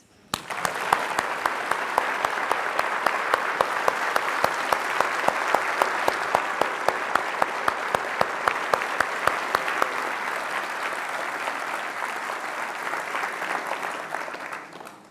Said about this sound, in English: I would like to suggest that all of us will give a huge applause to